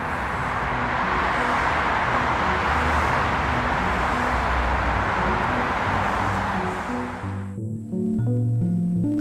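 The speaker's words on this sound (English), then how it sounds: "I can't hear my thoughts over the highway." Dense highway traffic roaring beside a park, a constant loud wash of passing vehicles that breaks off abruptly near the end, leaving a quieter, tonal hum.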